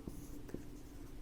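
Marker or chalk scratching on a board in a classroom English lesson, a few short strokes under a faint background hum, quiet and close.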